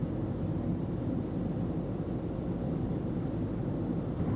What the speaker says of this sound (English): I started off just hearing wind noise, not a lot of it, just some. And now I've got tire noise on this louder road surface